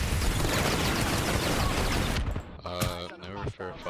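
Dense rapid gunfire rattles loud and continuous in the video game PlanetSide 2, then cuts off abruptly, leaving a voice talking with a few faint shots behind.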